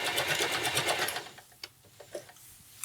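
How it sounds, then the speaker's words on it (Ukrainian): Janome Ami 10 domestic sewing machine with a vertical bobbin stitching a hem, a fast rhythmic whirring chatter for about a second, then stopping and leaving a few faint clicks and taps. "Дуже класно шуршить машинка."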